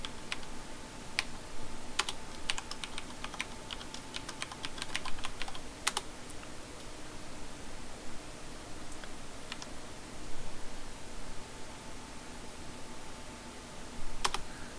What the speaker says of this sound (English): Make sure you're typing in the